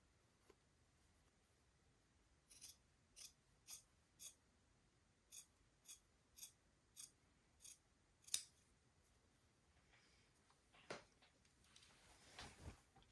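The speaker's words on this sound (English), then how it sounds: "Using my fabric scissors." Fabric scissors trim a sewn seam allowance on a bishop dress near the placket, about ten crisp evenly spaced snips close up in a quiet room, followed by faint handling rustles.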